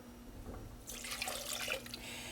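A cup of water poured into a large saucepan holding 1.5 cups of sugar for homemade nut brittle, a short splashing pour starting midway after a quiet stretch of low background hum.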